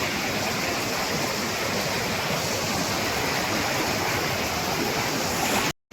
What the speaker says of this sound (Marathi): पावसाचा पाण्याचा प्रवाह भरपूर आहे